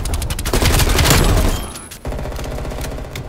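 Loud combat noise in Call of Duty: Black Ops Cold War during Hardpoint: a dense roar of explosive gunfire and a stun grenade blast that drops off sharply, then steady rapid firing continues.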